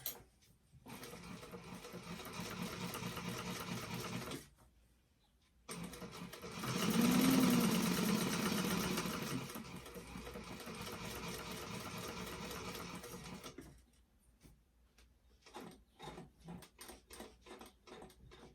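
A sewing machine stitches an inside zipper pocket onto a bag in sustained runs, pausing briefly for needle-down turns, with a louder faster burst midway and a few short stop-start bursts at the end.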